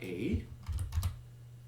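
Computer keyboard typing while renaming resistors in LTspice, a few quick soft key taps in short bursts, with someone speaking briefly at the start.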